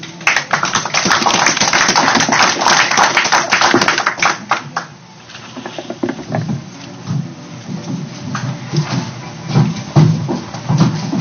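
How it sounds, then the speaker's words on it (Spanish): An audience at a cultural heritage presentation on Peru's Sondondo Valley gives a strong round of applause to welcome someone speaker. The clapping is dense and loud for about five seconds, then thins to scattered claps under a low murmur of voices. "La recibimos con un fuerte aplauso, por favor."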